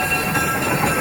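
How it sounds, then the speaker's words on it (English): Interior of a 1922 train coach pulled by a 1952 locomotive, filled with a steady broadband rumble and rolling hiss of the moving train, continuous and fairly loud with no voices. "the locomotive that's pulling us right now was built in"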